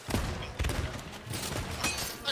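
Gunfire in the Sea of Thieves video game, a rapid burst of cracking shots and thuds, moderately loud, with a few sharper reports toward the end.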